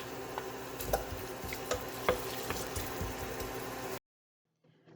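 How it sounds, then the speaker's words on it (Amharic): Garlic and onion frying in oil give a steady faint sizzle for four seconds with a few soft clicks of stirring, then cut to near silence. "ከዛ በኋላ ነጭ ሽንኩርቴን እና ቀይ ሽንኩርት እንዲከተፍኩትን ጨምርና ጥብስ አደርገዋለሁ ትንሽ"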